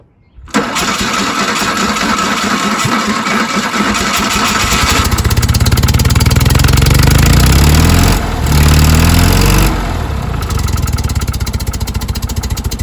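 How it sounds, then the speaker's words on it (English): A 1979 Fiat 126 engine cranks and catches after a short silence, then settles into a loud, close, steady idle with a brief dip and recovery partway through. "now we can give her a whirl and see if we can get it going and idling properly"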